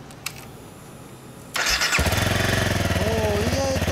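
A 2013 Honda CRF250M supermoto motorcycle cranks briefly and catches, then settles into a loud, steady, close idle with a rapid even exhaust pulse.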